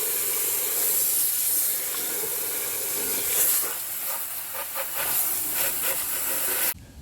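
A garden hose sprays water onto a tractor during washing, a continuous loud hiss with spattering as the stream strikes the surfaces, cutting off abruptly near the end.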